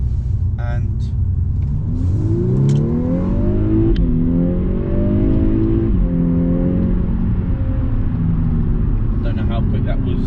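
A Volkswagen Golf R Mk6 engine in sport mode revs up hard as the car accelerates, the pitch climbing through several gear changes over a steady loud road rumble.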